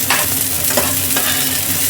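Onions fry in hot oil in a pan for a chili potato dish, a steady loud sizzle with a few scraping stirs of a spatula against the pan.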